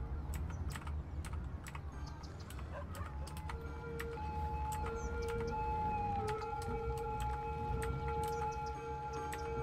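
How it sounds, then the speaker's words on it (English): An ambulance siren in the city-building game Cities: Skylines wails with a steady, sustained electronic tone over a busy background of rapid keyboard clicks, faint and continuous throughout. "The fucking ambulance is irritating me."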